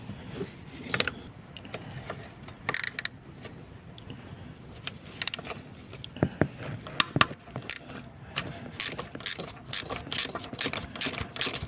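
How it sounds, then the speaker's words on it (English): Ratchet wrench clicking as it undoes a nut on a stud beneath the fuel rail of a Fiat 1.9 or 2.4 JTD diesel engine; close, dry pawl ticks come in short bursts and quicken toward the end, with light metallic clinks between. "That is the nut that you have to remove."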